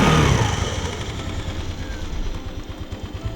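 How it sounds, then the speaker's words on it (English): A trip vehicle nicknamed the Mustang rumbles into life in Northern Laos, its engine running loud and close with a steady low drone that eases slightly after the first moment. "Let's turn on this engine."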